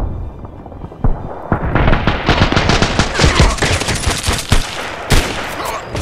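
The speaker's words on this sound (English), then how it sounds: "Now I can go in single shot and make some precise shots." Gunfire from the online shooter game Contract Wars crackles loud and close, a steady stream of sharp shots rattling along without a break for several seconds.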